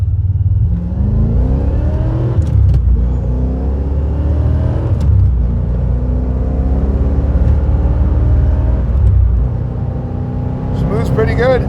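A 1985 Corvette with a 4+3 transmission accelerating on the road, its engine climbing in pitch through several gear pulls, loud and close from inside the car, with some talk mixed in.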